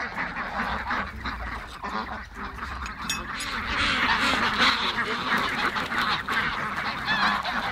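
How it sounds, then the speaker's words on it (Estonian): Ducks being let out of their pen on a summer farm morning, a busy flock of loud quacking and honking calls that grows fuller and denser as they come out, close by and continuous with no talking. "Nii, pardid laseme lahti."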